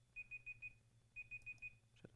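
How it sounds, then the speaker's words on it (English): A digital timer alarm beeps in two bursts of four sharp, evenly spaced high-pitched tones, close and clear over a faint low hum, ending with a brief click. "I don't know why the timer is going off."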